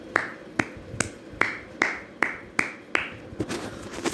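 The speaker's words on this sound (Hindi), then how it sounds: "पहले तालियां बजा लूं।" One person claps hands in a close, quiet series of about eight evenly spaced claps that quicken and crowd together at the end.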